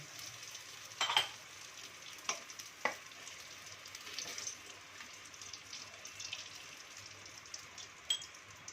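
Asafoetida dropped into hot oil with whole cumin while cooking Bengali dal chicken, a faint, steady sizzle with a few sharp spatters and pops scattered throughout.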